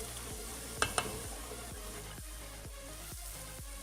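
Onion and green chili paste with tomato sizzling in a pan for a Lahori chickpea curry, a continuous close sizzle with soft stirring scrapes and two sharp clinks early on.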